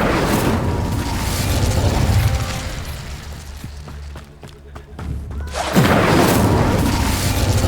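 Fire spells and magical blasts from Hogwarts Legacy, with a loud booming burst that rumbles on, dips briefly into quieter crackles, then swells into another strong whooshing blast near the end.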